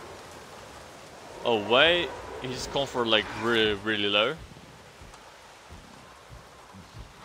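Steady rain hisses softly throughout a Jurassic World Evolution scene while a person talks over it in several bursts, then continues alone as a faint, even wash.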